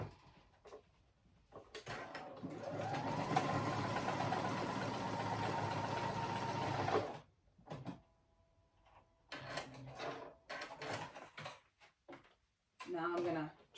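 A sewing machine top stitches the seam on a Duke jacket, running steadily for several seconds up close before stopping, followed by quieter scattered handling noises of fabric and tools.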